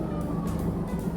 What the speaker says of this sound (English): Can you hear all the sirens?